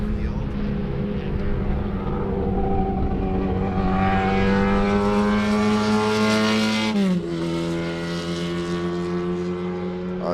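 Race cars on a pace lap at Sebring, a sustained loud engine drone with steady harmonic tones that shift in pitch partway through as cars pass nearby, with commentary talk underneath.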